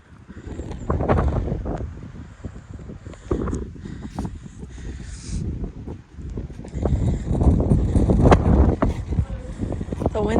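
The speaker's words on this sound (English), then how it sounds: "The wind's a whipping." Strong gusts buffet a microphone on a hilltop overlook in the Berkshire Hills of Massachusetts, with low rumbling bursts rising and falling throughout and voices talking underneath.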